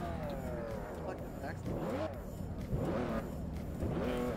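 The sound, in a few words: car engine revving in a video game (Forza Horizon)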